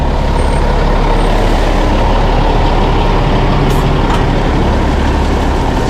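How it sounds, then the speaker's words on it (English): Loud, steady diesel rumble of a rotator tow truck's original Cat C16 engine, running continuously up close with no pauses, plus a faint hiss or two near the end. "That's got an original Cat C16 engine in it still."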